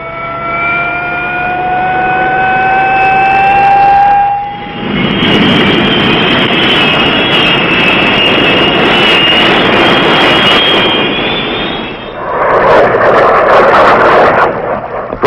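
A military jet flying close air support in Vietnam in 1967 roars loud and continuously, with a high whine at first that swells into a broad, rushing engine roar, with no voices.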